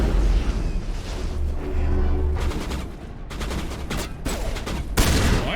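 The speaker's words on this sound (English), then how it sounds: "Let's chuck a nade down there too." Gunfire and explosions in the Mass Effect 1 Remastered Bring Down the Sky mission, with a grenade blast among dense combat noise: loud, continuous rattling shots and sharp booms layered close together with no pauses.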